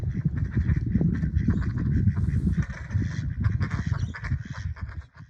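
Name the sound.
ducks quacking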